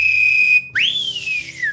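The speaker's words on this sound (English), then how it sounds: "Give me some whistle." A loud, clear blown whistle opening a live broadcast from a fan venue: a steady held tone, a brief gap, then a rising swoop that glides slowly back down, alone with no talk.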